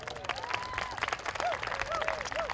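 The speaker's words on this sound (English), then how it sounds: "Please give them all a big round of applause." Outdoor crowd at the San Francisco Walk to End Alzheimer's charity walk claps and applauds continuously, a dense wash of hand claps with scattered whoops and voices mixed in.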